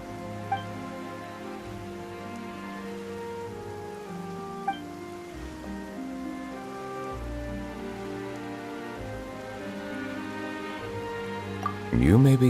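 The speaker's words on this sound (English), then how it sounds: "Why is it raining all of a sudden?" Rain pattering in the video game Genshin Impact, a steady soft patter beneath sustained tonal game music, with a brief louder burst at the end.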